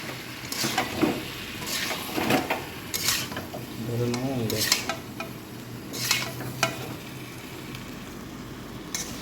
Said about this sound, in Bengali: মশলা সসের সাথে চিকেন পকোড়াগুলো ভালোভাবে নেড়ে চেড়ে মিশিয়ে নিতে হবে।